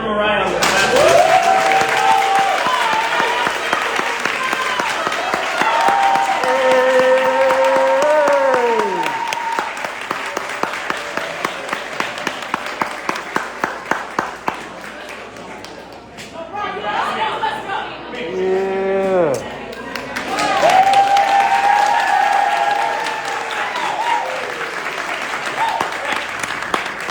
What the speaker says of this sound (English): You're going to clap for Mariah on the last one.